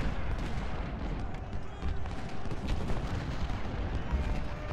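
Musket volleys and artillery booms from the Civil War game Ultimate General roll together as a dense, distant-sounding battle din of overlapping cracks and thuds, steady and fairly quiet throughout.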